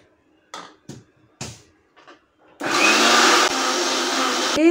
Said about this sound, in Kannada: ಮಿಕ್ಸಿ ಜಾರಲ್ಲಿ ಹಾಕಿ ರುಬ್ಬಿಡೋಣ ಅಷ್ಟೇ.